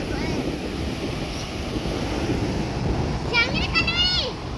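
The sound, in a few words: sea waves breaking on a beach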